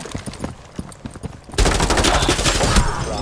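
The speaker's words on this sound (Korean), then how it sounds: "그거 약간 총소리 좋지 않아요?" Rapid gunfire from a video game erupts about halfway through, loud and continuous after a few scattered quieter shots and clicks.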